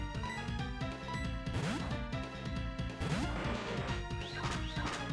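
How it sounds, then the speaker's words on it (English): A Night Slash attack in Pokémon Renegade Platinum lands as a loud, crashing smash over dense game music that continues throughout. "It goes for Night Slash instead."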